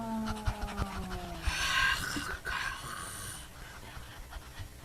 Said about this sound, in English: Now everyone pant like a dog.